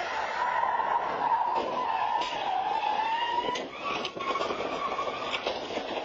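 A car speeding around a corner on a residential street late at night, tires spinning and squealing in a sustained, loud screech with a wavering pitch that dips briefly before continuing.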